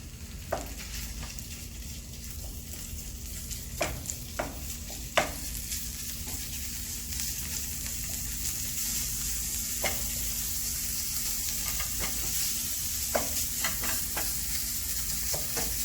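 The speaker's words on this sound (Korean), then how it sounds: "소고기를 넣고 가볍게 볶아주시면 되겠습니다" Beef sizzles steadily in a tablespoon of cooking oil as it is stir-fried, a dense, even hiss broken by occasional sharp taps of the utensil against the pan.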